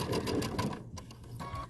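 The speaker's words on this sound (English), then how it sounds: "we're going to sew to that point" A sewing machine stitching quilt pieces for a double wedding ring quilt runs in a quiet, fairly close rapid whir with brief slowdowns, stopping and restarting once.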